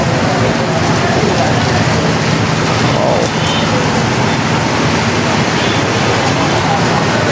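Heavy storm rain pours steadily at a fuel pump, a dense, continuous roar of water that stays loud and unbroken from start to finish.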